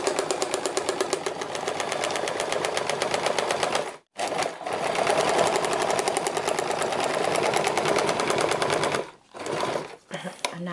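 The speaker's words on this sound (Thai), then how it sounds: "เสร็จแล้วการเย็บเนี่ยเย็บตามขอบนี้นะเดี๋ยวแม่จะเย็บให้ดูนะคะทั้งสองฝั่งเลย" An old sewing machine stitches along the edges of a cloth face mask, its loud, fast needle chatter running near and continuous with two brief pauses, a voice heard faintly at times.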